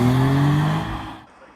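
A Nissan 370Z on its original exhaust passes by with a loud engine note that falls in pitch as it goes, fading quickly into the distance within about a second and a half.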